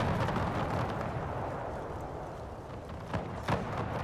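Cannons fire canister shot in a Napoleonic-era battle game, a continuous low rumble of artillery with a couple of sharper booms standing out toward the end.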